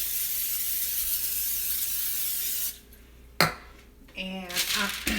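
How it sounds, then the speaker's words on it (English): A steady hiss of cooking spray coating a loaf pan runs for a few seconds, then stops, followed by a sharp clatter and soft kitchen handling noises. "Here's my loaf pan. Spray it."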